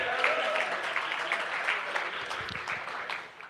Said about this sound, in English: everybody, round of applause for Evans.